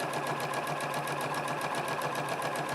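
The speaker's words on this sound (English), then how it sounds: "I'm just using a basic straight stitch because that'll hold up really well." Sewing machine running a basic straight stitch through a skirt lining, a steady fast rhythmic whirring and clatter, close and continuous throughout with no talk.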